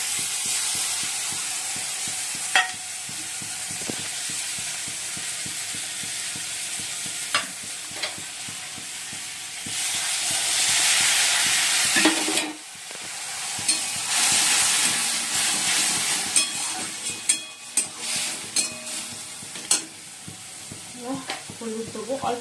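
Ground spices frying with browned onions in a pan hiss and sizzle loudly throughout, broken by repeated scraping and knocking of a spoon as the mixture is stirred, with brief quieter stretches.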